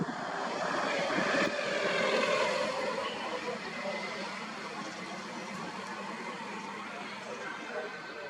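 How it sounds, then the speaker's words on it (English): A USAF C-17 Globemaster flies over in a broad, steady roar that swells early and then slowly fades, loud and sustained throughout, with no talk. "There you go, Globemaster."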